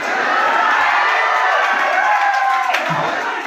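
An audience at a jatra stage show cheering and clapping, a loud dense crowd roar that swells and holds with shouts mixed in, continuous for several seconds.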